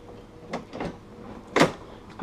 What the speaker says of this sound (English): Testing door.